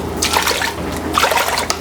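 Water is poured into a pot to make brine for pickled carrots, heard as two close, splashy bursts of pouring separated by a brief lull.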